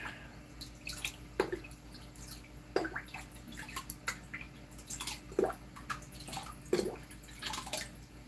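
Liquid nutrient is poured into a deep water culture hydroponic reservoir, giving faint, close, scattered drips and small splashes over a quiet background.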